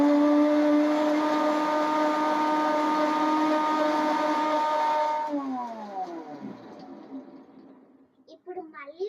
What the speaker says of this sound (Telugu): అట్లా కొన్ని వేసుకుంటా మిక్సీ వేసుకుందాం.